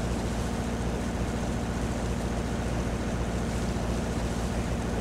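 Steady wash of waves and wind around a boat sailing on the sea in the video game Watch Dogs 2, a constant broadband roar with no pauses.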